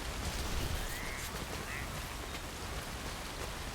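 Timefall rain in the video game Death Stranding falls as a steady, quiet hiss of rainfall across the whole stretch, with no talking.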